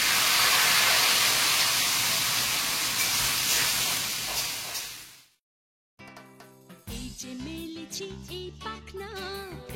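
Food fries in a pan, a loud, dense sizzle that fades out after about five seconds, then music takes over.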